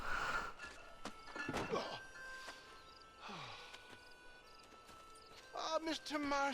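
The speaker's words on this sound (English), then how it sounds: "Oh, this horse race." A horse gallops during a horse race in the video game Red Dead Redemption. Soft rhythmic hoofbeats run under a man's close, conversational talking.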